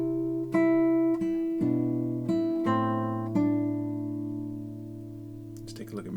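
Classical guitar plays the opening measure of Roncalli's Gavotte: a handful of plucked notes and chords, each ringing and decaying, bass notes under a melody, ending with a last sustained chord that fades.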